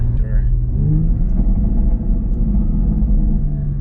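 A 2020 BMW X3M SUV engine rumbles loudly and revs up, with a deep growling drone throughout; a voice briefly speaks over it near the start.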